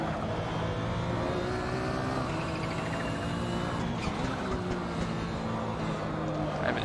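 Porsche 911 GT1 race car in the Assetto Corsa racing game, a continuous, moderately loud engine drone with shifting pitch and faint tyre noise, sustained throughout.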